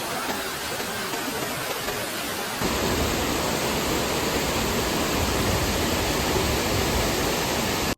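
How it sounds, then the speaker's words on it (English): A natural 20-meter waterfall in the old town of Saarburg, Germany, roars as a steady, dense broadband rush that grows fuller after a few seconds and holds loud and continuous to the end. "the old town has a 20-meter waterfall, which is honestly one of the coolest things I've seen in Germany"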